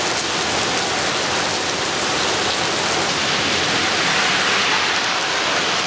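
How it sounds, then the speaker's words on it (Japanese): Steady rain pours down on a city street in Toronto in a dense, constant hiss with no let-up and no voices. "もう雨降ってるから"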